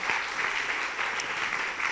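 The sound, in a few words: congregation applause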